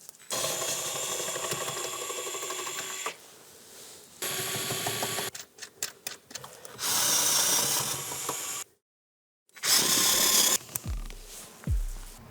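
A 10 mm socket on a ratchet removes the bolts of a 2020-2025 Nissan Sentra SRS module, with bursts of buzzing power-tool whir and quick ratcheting clicks, separated by pauses and one silent gap.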